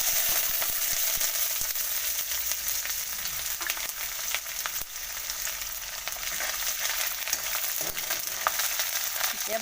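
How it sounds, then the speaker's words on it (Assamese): Onions frying in a pan with cumin, coriander seeds and dried chillies for Assamese motor ghugni, a steady close sizzle with faint stirring and scraping, no talk. "পিঁয়াজ দি দিছোঁ।"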